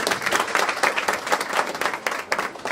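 A meeting audience in Bolpur, West Bengal gives a burst of dense, lively applause. Many hands clap close and fast, steady in intensity throughout the short stretch.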